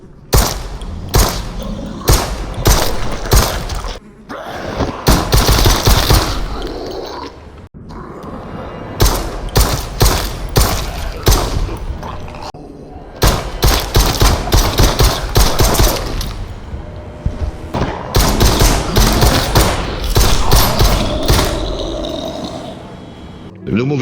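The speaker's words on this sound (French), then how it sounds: "L'arme se recharge manuellement. On prend le chargeur, on l'insère, on tire, on vide le chargeur, on recharge, etc." Gunfire and manual magazine reloading in the VR game Propagation: Paradise Hotel: rapid bursts of loud, sharp shots come in rhythmic volleys, broken by short pauses and clicks, with a voice talking over them.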